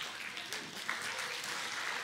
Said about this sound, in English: How about a big round of applause for the angels?